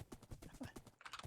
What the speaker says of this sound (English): He's a land horse, he's not a seahorse